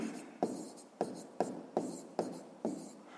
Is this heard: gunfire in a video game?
no